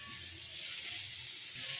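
Onions frying in a pan with a little salt for an egg curry, giving a steady close sizzle and hiss throughout with no talking.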